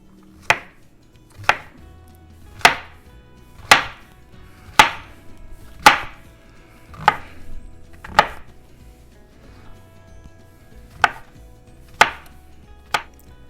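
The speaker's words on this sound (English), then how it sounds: "For these large portobello mushrooms, I'm going to slice them first and then chop them up" Large portobello mushrooms sliced and chopped with a knife on a cutting board, about a dozen crisp, evenly spaced knife strikes close up, with no talking.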